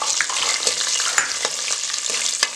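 Whole spices, slit green chillies and cashews fry in hot oil, giving a dense continuous sizzle with small pops and occasional stirring clicks, close and steady, with no voices.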